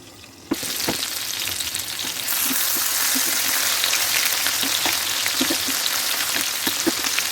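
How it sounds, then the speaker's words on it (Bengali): Small jatka hilsa fish frying in oil over low heat, a steady close sizzle with scattered crackles and pops that sets in abruptly and holds throughout, no talk. "একদম লো আছে মাছটাকে ভাজি করতেছি"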